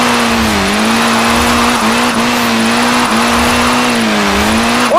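Sustained tyre squeal from a car drifting in Forza Horizon 4's Drift Club, a steady pitched screech over a constant engine drone, loud and continuous with slight wavering pitch.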